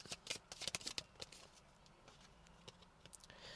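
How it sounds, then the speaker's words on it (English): Tarot cards riffle and snap in a quick burst of crisp shuffling and pulling clicks, close and fairly quiet, then thinning to sparse taps. "I'm going to pull a couple more cards to clarify it."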